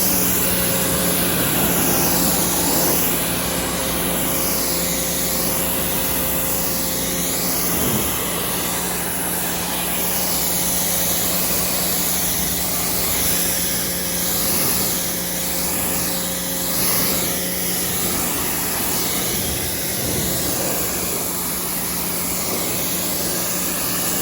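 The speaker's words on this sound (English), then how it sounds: "This is not the strongest pressure washer." A modest-strength pressure washer rinses soap off a car, giving a steady loud hiss of spray with a constant motor drone underneath, continuous throughout.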